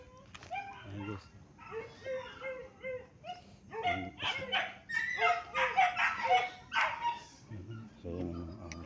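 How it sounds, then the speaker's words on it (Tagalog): A dog barks and yips repeatedly in a burst of sharp calls outdoors, loud and fairly near, with people talking before and after the barking. "So yun ang aso"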